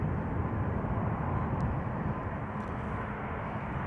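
KLM airliner arriving at Amsterdam Schiphol, a muffled, fairly faint steady engine rumble heard from a distance with no talking.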